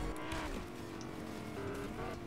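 A car engine drones steadily in Fortnite, a faint, continuous motor hum with slight tire noise as the vehicle is driven.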